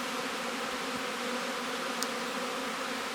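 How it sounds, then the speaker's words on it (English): Honeybees fly around a bee yard on a warm March day, a soft continuous buzzing drone at a steady low level, with no talking. "we have the bees out flying around on this warm day"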